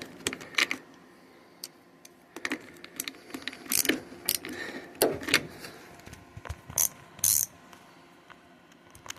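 A wrench works loose the negative battery terminal on a Massey Ferguson 65 tractor, giving irregular close metallic clicks, scrapes and clanks in short bursts with quiet gaps between.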